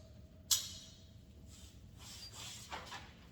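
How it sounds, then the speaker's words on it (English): A dog crate door swings shut with one sharp, close metallic clank, followed by faint rustling and light handling noises. "I'm going to close the door again so he doesn't come right out when I do it."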